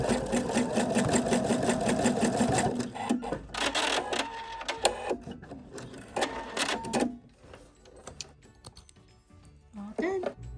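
A sewing machine runs a tacking stitch on a sunglass holder necklace, with a loud, fast mechanical rattle for the first few seconds, then shorter bursts and pauses.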